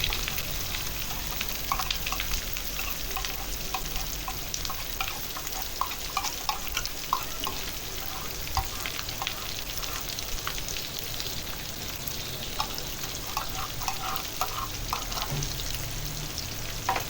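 Corned beef sautéing in a pan: a steady, close sizzle and fry running throughout, with repeated light scrapes and stirring strokes, and no talking.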